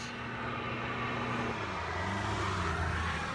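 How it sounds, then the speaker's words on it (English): Faint, continuous hum of road traffic in the distance, a vehicle's engine note rising and shifting as it passes. "Sorry about the traffic noise in the background."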